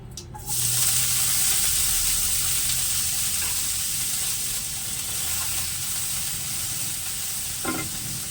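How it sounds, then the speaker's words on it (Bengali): Cabbage frying in oil with whole cumin seeds gives a steady, loud sizzle that runs unbroken through the whole stretch, with a brief stir or scrape of the pan near the end and no talking. "ততক্ষণ আপনাদেরকে ধৈর্য ধরে বাঁধাকপিটা একটু ভেজে নিতে হবে"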